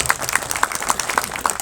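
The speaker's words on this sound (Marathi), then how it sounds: "त्यांच्याकरता जोरदार टाळ्या झाला पाहिजे" An audience at an employees' get-together in Nagpur claps steadily, a dense bed of applause with sharper individual claps popping out at a fairly regular beat, loud and close.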